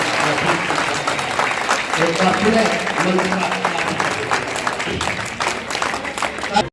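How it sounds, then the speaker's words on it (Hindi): An audience applauds to welcome guests at a function in Suratgarh, steady dense clapping from a crowd throughout, with voices mixed in. "तालियों के साथ स्वागत करें इनका"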